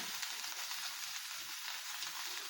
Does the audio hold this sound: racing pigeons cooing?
no